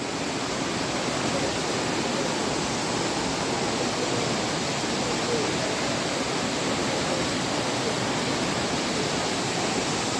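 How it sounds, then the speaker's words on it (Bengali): Water pouring down Changey Waterfall near Kalimpong, a loud continuous broadband rush with no change in level and no voices. "এই যে জলটা যাচ্ছে"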